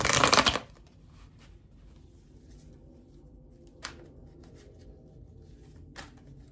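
Tarot oracle cards are shuffled in one short, crisp riffling burst at the start, followed by quiet handling with a couple of faint taps.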